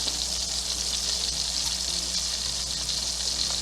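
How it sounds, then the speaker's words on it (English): Onions hit hot oil and butter in a pan, giving a steady, even sizzle that holds at moderate level for a few seconds, close by with no talk. "So now let's add the onions."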